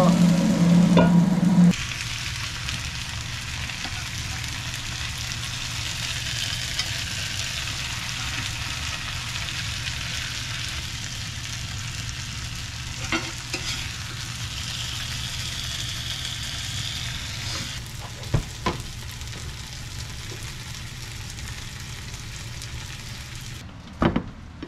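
Cod and tomatoes frying in an iron skillet give a steady, even sizzle close by that lasts throughout, with a louder opening moment and a few soft clinks and stirring knocks.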